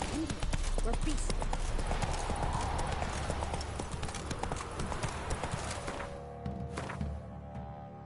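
Horse hooves clip-clop steadily and close in Witcher 3, the rhythmic thuds running under a dense game soundscape with speech mixed in, thinning out near the end.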